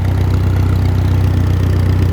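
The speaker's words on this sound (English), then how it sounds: "let's spin this tractor around now" A farm tractor engine idles loudly and close by, a steady, deep rumbling drone that holds an even rhythm throughout, with no talking over it.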